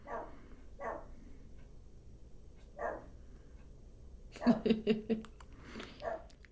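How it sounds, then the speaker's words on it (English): A dog barks in scattered single woofs, then a quick cluster of louder barks, heard at moderate distance in a quiet room. "I'm going to let my dog finish barking"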